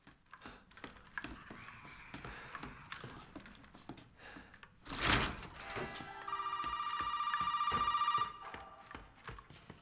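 A telephone rings loudly in the Resident Evil 7 video game, a steady burst of about two seconds preceded by a heavy thud, with rhythmic footsteps running through the scene.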